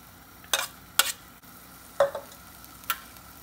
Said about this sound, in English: Stir, and then you're going to add the red pepper in.